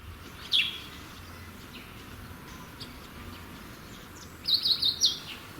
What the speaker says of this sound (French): Les oiseaux offrent constamment une ambiance de brousse à ce lieu.